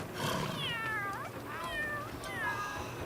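Cat yowling in The Sims 3 game: three drawn-out, falling meow-like wails in a row, fairly loud over a steady game background with no talking.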